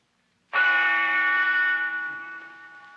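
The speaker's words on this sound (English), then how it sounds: "The silver bell, which signals the beginning and the end of the 3-minute talking period, is about to sound" A silver bell strikes with a bright metallic clang, its tone ringing out and slowly fading over a few seconds.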